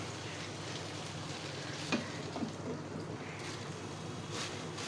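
Curry cooking in a pan, a constant close hiss of frying under occasional scrapes of a spoon stirring, with no talk.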